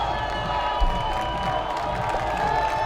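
Crowd at an RPI college football game against Buffalo State cheering for the home defense, a steady, moderately loud mix of shouts and scattered clapping, heard from a distance and sustained throughout.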